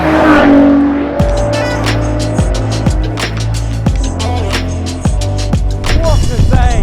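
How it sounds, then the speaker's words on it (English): Ferrari Monza supercar accelerating hard through repeated gear changes, its engine rising and dropping in pitch over several quick shifts, loud and close. "And we shall drive the Ferrari first."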